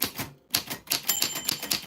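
Rapid typewriter key clacks strike in quick irregular bursts, loud and close, with a bright bell ding ringing out near the middle, all without any talk over it.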